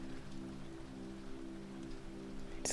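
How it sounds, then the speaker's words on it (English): Steady rain falls outdoors with a dense, even patter of drops and a low constant hum beneath, with no voices over it. "I hope you can hear the rain."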